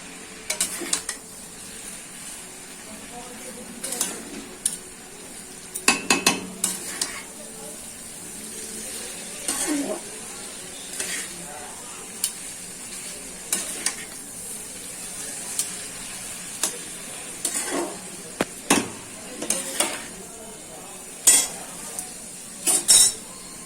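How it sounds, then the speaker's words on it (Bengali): Chowmein noodles being stirred and tossed in a pan, with repeated sharp scrapes and clinks of a utensil against the metal over a low background hiss, continuing steadily for a long stretch. "এবার আমি ভালো করে চাউমিনটাকে মেশাবো"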